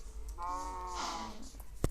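A cow moos once in a long, clear, drawn-out call, fairly close and loud over a rural background, with a brief sharp knock at the end.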